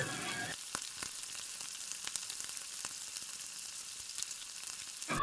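Pre-fried potatoes stirred into hot, sizzling spice masala for a Bengali chela fish curry, giving a steady close frying hiss with scattered soft scraping ticks, and a louder burst at the end.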